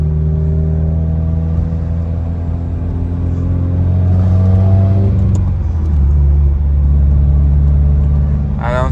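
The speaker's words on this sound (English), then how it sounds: "I'm test driving the car right now." A 2015-2021 Subaru WRX with a replaced turbo drives along, its engine droning steadily with shifting pitch as gears change, heard from inside the car with a continuous rumble.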